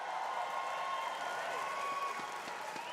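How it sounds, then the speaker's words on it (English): A crowd at an esports championship for Apex Legends claps and cheers in a sustained, fairly distant wash of applause. "Crowd, make some noise!"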